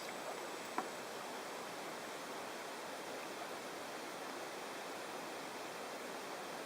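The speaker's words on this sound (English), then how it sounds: "at the base of this falls, or not falls, just some inflowing water" Inflowing water streams steadily at the base of a small falls, a constant broadband rushing with no break, with one tiny click near the start.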